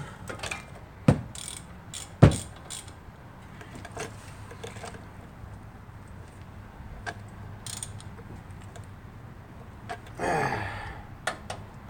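Ratcheting tool tightening parts, a few sparse clicks and sharp metallic ticks spread out over quiet background, with occasional clanks of parts being handled nearby.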